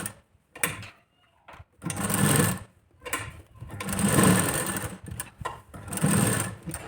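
A sewing machine stitches a katori blouse in bursts, whirring loudly for a second or two at a time with short pauses and light handling clicks between runs.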